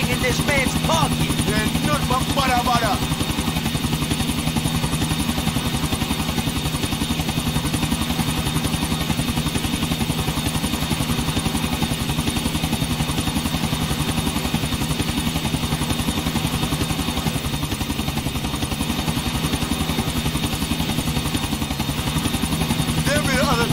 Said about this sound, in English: There be the other chopper.